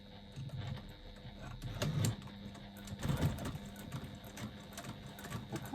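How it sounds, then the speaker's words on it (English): A sewing machine runs a line of topstitching along a fabric's top edge, 1/8 inch in, with a steady mechanical whir rising and falling in short bursts, moderately close. "all I'm going to do is top stitch along the top edge"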